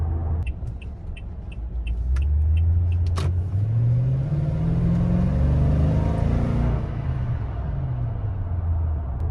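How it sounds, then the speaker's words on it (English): A 2021 Toyota Tundra V8 pickup engine rumbles and rises in pitch as it accelerates, then eases off, with a deep steady muted exhaust drone throughout and no talking. "There's a nice noise that comes from the V8 and there's a muted rumble from the exhaust."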